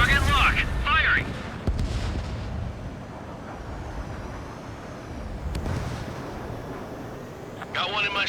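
A missile launched from a fighter jet in Ace Combat 7 roars out as a loud, sustained rushing blast over steady engine noise, with sharp transient bursts and brief radio voices at the start and end.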